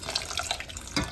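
A potato starch and water mixture is poured into a pot for rhubarb kisiel, a brief close liquid splash and trickle.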